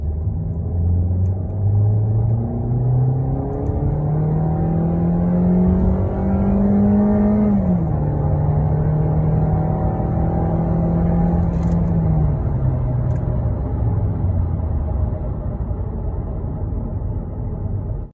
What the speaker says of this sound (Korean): 제가 급가속을 하려고 풀악셀 밟았거든요.